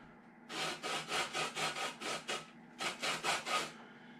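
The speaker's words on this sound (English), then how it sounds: "Now let's get that orange zest." An orange is rubbed up and down on a grater for zest, making about a dozen soft, evenly paced rasping strokes close up, with a short pause midway.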